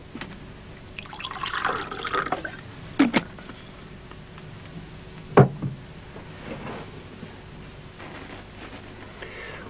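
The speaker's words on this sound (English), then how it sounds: "Pour myself a bit of coffee." Coffee pours into a cup with a soft liquid trickle, broken by a few clinks and knocks of the cup and pot, heard quietly and close by.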